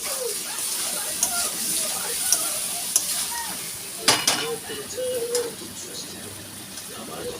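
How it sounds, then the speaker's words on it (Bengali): Chicken kosha being stirred and fried in a pan, with soft sizzling and scraping under a few scattered clinks of the spoon against the pan, while birds coo faintly in the background. "হ্যাঁ, চিকেন কষা হয়ে এসছে।"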